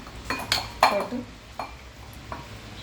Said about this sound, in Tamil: இப்போ இதை ஒரு மிக்சிங் பவுலில் போட்டுக்குவோம்.